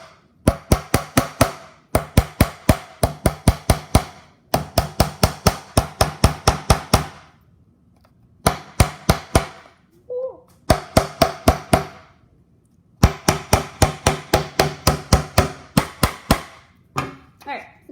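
Hammer blows drive nails into a wooden board for a string-art mountain craft, sounding as rapid bursts of sharp, loud strikes in quick runs with brief pauses between them, close and with no talk over them.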